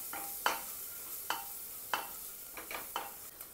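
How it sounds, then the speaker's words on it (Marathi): Ginger-garlic paste fries in oil with turmeric, giving a faint low sizzle broken by a series of short scraping strokes from a spatula stirring the pan. "आलं लसूण तेलात थोडं चरकून घ्यायचं व्यवस्थित असं"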